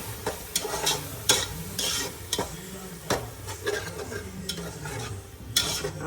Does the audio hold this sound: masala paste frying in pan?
yes